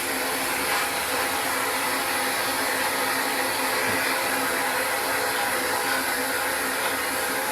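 Vapor blasting gun cleaning rusty VW Karmann Ghia parts, a continuous loud hissing roar of pressurized spray, steady and unbroken, close up with no talking.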